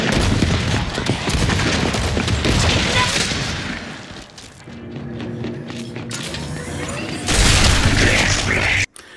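Rapid, dense Gears 5 gunfire rattles in close bursts during a ranked free-for-all match, fading briefly before a loud final volley, while a player talks over the shooting.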